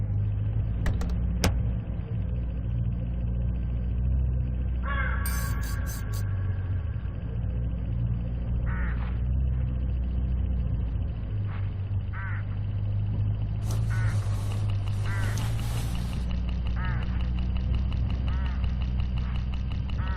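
Hooded crows along a road in a mystery hitchhiking video game give harsh repeated caws and squawks in bursts over a steady low car engine drone, fairly close and loud.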